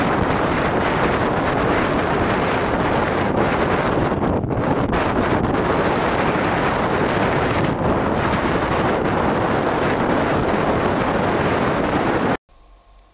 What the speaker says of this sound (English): As you could hear guys from the wind in the first clip, it was mega windy